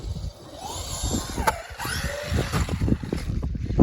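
Traxxas Maxx V2 RC monster truck driving, its electric motor whining up and down in short bursts over crunchy, clattering tyre and chassis noise, fairly close and uneven.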